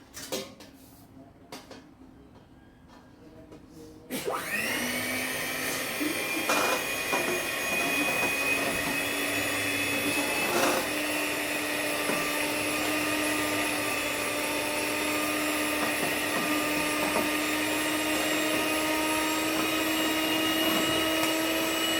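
Electric mixer beating cake batter, its motor starting after a few quiet seconds into a steady loud whirring whine with sustained tonal hum, occasional knocks against the bowl, continuing without pause to the end.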